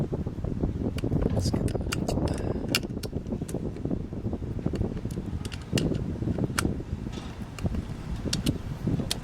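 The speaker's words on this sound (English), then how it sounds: "it's a little windy, I'm sorry" Wind buffets the microphone outdoors in a steady rumbling roar during work on a 2007 Honda CR-V engine, with someone speaking briefly over the gusts.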